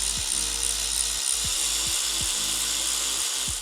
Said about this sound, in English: I'll just use the power ratchet to get them out the rest of the way